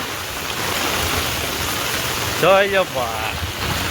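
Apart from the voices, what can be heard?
heavy rain falling in a village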